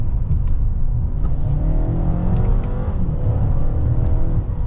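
A 2026 Mercedes-Benz GLA 250 in sport mode revs its engine, a steady, loud, low rumble heard from inside the cabin, continuous throughout with no voices.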